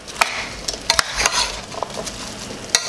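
A spoon stirs rice with caramelized-sugar browning in a pot for a Trinidad pigtail pelau, giving a steady close scraping and soft sizzle broken by sharp clinks of utensil against the pot.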